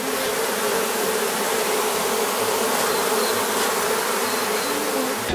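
A swarm of honey bees in Melbourne, Australia, hums in a dense, loud, continuous buzz from many insects close by, steady throughout without any talk.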